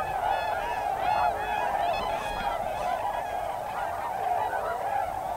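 Trumpeter and tundra swans honk continuously on a Wisconsin waterway, a dense overlapping chorus of nasal, bugling calls from a large flock at moderate distance, with no talk.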